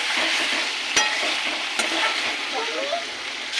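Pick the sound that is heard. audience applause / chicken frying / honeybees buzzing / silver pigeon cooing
chicken frying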